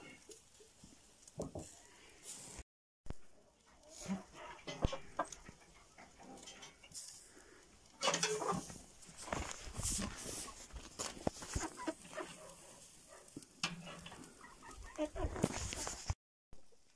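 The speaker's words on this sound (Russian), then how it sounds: "Куры, шашлыки горячие едят. Прям с мангала." Chickens clucking around a hot grill of shashlik in a yard, soft intermittent clucks and scratching, faint and scattered, with people talking over them.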